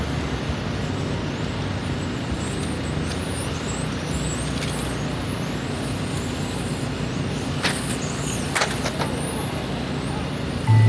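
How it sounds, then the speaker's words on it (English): Race cars in the 17.5 TC A1 class run laps on a track, making a constant broad rushing whine with brief high-pitched sweeps as cars pass close near the end. "Your top car's going to go by for one more lap."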